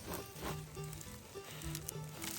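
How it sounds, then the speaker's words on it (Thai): Red ant eggs stir-fried outdoors in the forest, a quiet, continuous sizzle with soft patter while bird calls sound in the background. "ตอนนี้เราก็กำลังทำการผัดไข่มดแดง"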